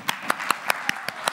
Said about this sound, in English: And big applause for Håkan.